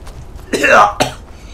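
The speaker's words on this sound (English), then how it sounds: "Ugh, coughing." A harsh cough or throat-clearing bursts out, followed by a shorter second cough, close to the microphone with nothing else around it.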